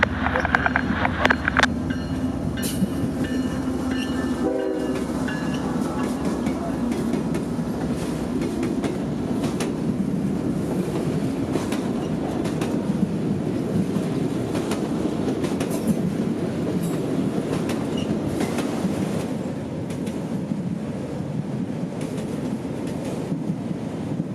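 A long freight train of empty auto rack cars, about 11,000 feet of them, rolling past near a siding in central Georgia, with a steady loud rumble and rhythmic clickety-clack of wheels over rail joints throughout.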